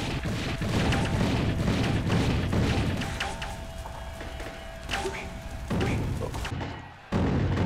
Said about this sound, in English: this robot is throwing grenades over at me to get to me.